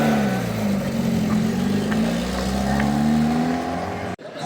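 Peugeot 106 rally car number 48 at a rally, its engine holding a loud steady drone that slowly rises in pitch as it accelerates, then cuts off abruptly at the end.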